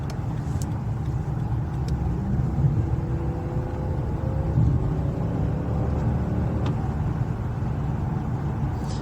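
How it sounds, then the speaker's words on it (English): A 2013 Lexus LS460 F Sport sedan engine hums smoothly and steadily as it accelerates, a low, even rumble with road noise and no sharp roar. "listen to what this car sounds like as we kind of ring it out just a little bit"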